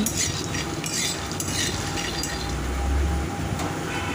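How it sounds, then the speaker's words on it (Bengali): Peanuts dry-roasting in an oil-free wok on a gas stove, with scraping, rattling stirs and a soft crackle over a constant hiss, close and fairly loud. "শুকনো কড়াইতেই এই চীনাবাদামটাকে আমি ভেজে নিচ্ছি।"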